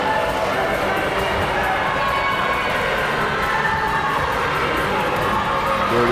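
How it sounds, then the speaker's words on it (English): A basketball crowd at a wheelchair basketball series final roars continuously, loud and dense, chanting and shouting for defense with a commentator speaking over it. "You can hear the crowd screaming defense, defense, Eagles"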